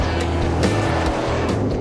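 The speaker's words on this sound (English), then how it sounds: "another dust maker car zooming by as fast as they can" A car tearing along a dusty track rushes past at speed, a loud, close engine roar with quick swelling surges as it zooms by, with no talking.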